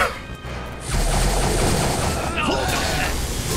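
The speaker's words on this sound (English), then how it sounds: "He has Tetrion cannons!" Tetrion cannons fire in the video game Magicka, a dense barrage of booming, crashing blasts that starts abruptly and rolls on continuously, loud and close, with excited players shouting over it.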